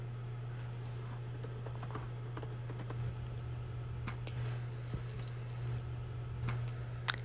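Soft, quick keystrokes tap out a password on a computer keyboard, a scattered run of light clicks over a low steady electrical hum, fairly faint and with no talk.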